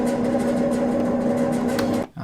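Recorded air conditioning unit humming steadily with loose metal parts knocking against each other in a rhythmic pattern, close and continuous before cutting off near the end.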